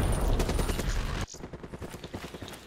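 Rapid, loud gunfire from a sniper rifle in Black Ops 3, a dense burst that cuts off sharply and is followed by quieter repeated shots and pulsing game sounds.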